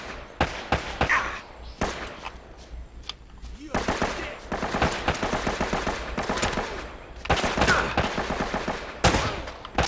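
Rapid automatic gunfire bursts and single shots from a firefight in the video game Uncharted: Drake's Fortune, loud and repeated across the whole stretch, with brief gaps between volleys.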